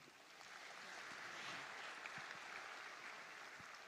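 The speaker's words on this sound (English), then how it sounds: "A round of applause again, please." A conference hall audience at an international rice congress gives a round of applause, a steady wash of distant clapping that swells and holds for several seconds, fairly faint and diffuse.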